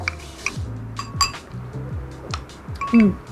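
A spoon stirs a dipping sauce of raw garlic, spring onion and sesame in a bowl, giving a string of light, irregular clinks and scrapes against the dish over low background music.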